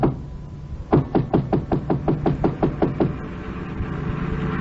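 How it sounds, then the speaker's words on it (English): A rapid run of about a dozen sharp knocks on a door, evenly spaced and fairly close, followed by quiet background hum. "I knocked on the door."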